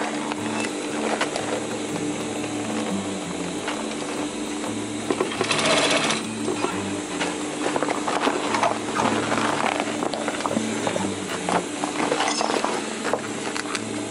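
A sewing machine stitches fabric for a roll-up bag, a close, steady mechanical whirring with rapid needle chatter that grows louder in the second half, broken by brief clicks.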